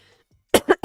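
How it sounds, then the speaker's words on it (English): A person coughs three times in quick succession, close and loud, after a near-silent moment. "Allow me to cough real quick."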